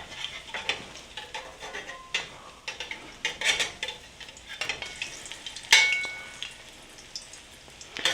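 Corn fritter batter fries in shallow oil, a crackling sizzle broken by frequent spatula taps and scrapes against the pan, close and fairly quiet, with no talking.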